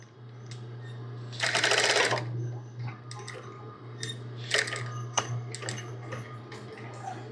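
A sewing machine back stitching the seam of an apron, a short rapid burst of needle hammering near the start, followed by quieter clicks and handling taps.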